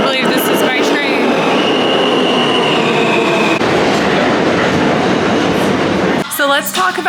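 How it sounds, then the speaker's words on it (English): A New York City subway train bound for Manhattan rumbles past loudly and steadily at night, with metallic wheel screeches and rail clatter, ending in a brief squeal as it slows. "I do believe this is my train."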